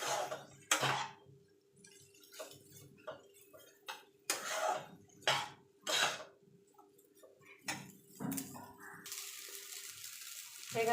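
Egg chowmein with fried vegetables is mixed in a pan, giving irregular scraping and tossing bursts that start and stop through a quiet kitchen, followed by a steady hiss near the end.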